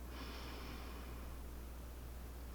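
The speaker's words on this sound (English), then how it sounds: "Breathe in through your nose." A quiet, airy intake of breath through the nose, a short soft hiss near the start that fades out over about a second against faint background noise.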